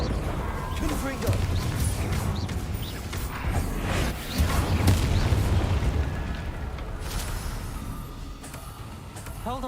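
In Hogwarts Legacy, a Confringo fire spell blasts and explodes with a heavy, rumbling boom that swells and lingers amid dense game effects, fading toward the end.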